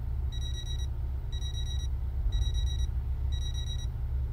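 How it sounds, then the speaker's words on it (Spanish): Alarm clock ringing in a Nintendo Switch video game: four evenly spaced bursts of high electronic beeping, about one each second, over a loud low rumbling background. "El despertador."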